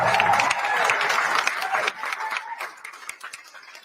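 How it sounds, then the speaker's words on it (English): Enthusiastic applause from a crowd at a rally, loud at first and gradually thinning out as the clapping fades over a few seconds. "another rousing round of applause"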